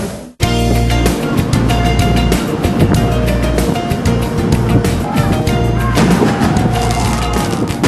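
Fireworks bursting above a car ferry deck during an onboard fireworks show, a dense, loud run of booms and crackles that starts abruptly and continues without pause, with a music-like layer mixed in.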